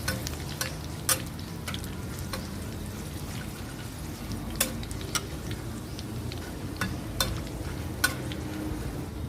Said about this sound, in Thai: อันนี้ก็ทอดพอเขากรอบนะคะ ไม่ต้องถึงกับว่าให้เขาดำ